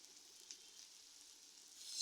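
Soaked chana dal dropped into hot tempering oil gives a quiet, steady sizzle with a small pop midway, swelling louder toward the end, no one talking.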